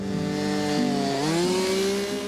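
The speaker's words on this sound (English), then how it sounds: "Ah, the sounds of an ice auger." Ice auger drilling through lake ice on Lake of the Woods during ice fishing, a loud, continuous motor whine with the pitch rising and shifting as it bores, heard close and alone.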